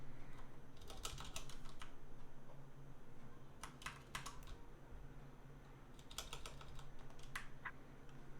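A computer keyboard is typed on in three short quiet bursts of rapid key clicks, separated by pauses, over a faint steady background hum.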